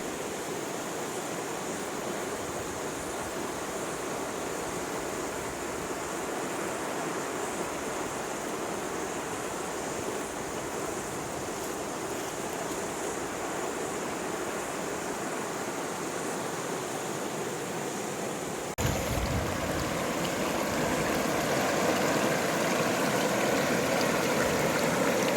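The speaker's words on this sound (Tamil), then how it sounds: "எல்லாருமே வர்றது இந்த ரிவரோட சவுண்டு கேட்கறதுக்காக தான்" A forest river flows steadily near a jungle campsite, a broad continuous rushing wash of water that stays even and close throughout, briefly shifting in tone partway through, with no voices.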